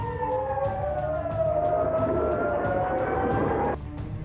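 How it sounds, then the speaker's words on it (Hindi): Air-raid sirens in Israeli settlements during an attack wail with overlapping rising and falling tones over a low rumble, fairly distant, then cut off abruptly near the end. "बताया गया कि हमले से कई इजरायली बस्तियों में सायरन बजने लगे।"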